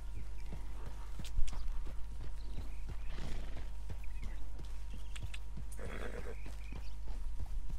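Horse hooves clip-clop at a steady walk in Red Dead Redemption 2, a regular rhythm of close, distinct steps over a low steady hum, with a brief whinny or snort partway through and faint noise around the six-second mark.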